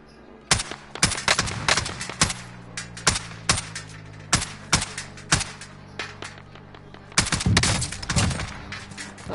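Gunfire in the video game Call of Duty Warzone comes as loud, sharp, close shots, with single cracks and rapid bursts spread irregularly over several seconds, with no talking.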